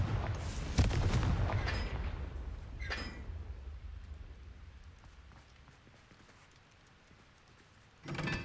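A Confringo explosion spell goes off in the Hogwarts Legacy video game: a loud, sharp blast near the start trails into rumbling debris and ambient noise, then a second, smaller burst arrives at the end.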